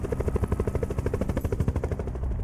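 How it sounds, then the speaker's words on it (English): A helicopter in the Call of Duty Black Ops 4 Blackout battle royale game thuds with loud, fast, steady rotor chops, close by. "I thought the helicopter was gonna crush me for a second."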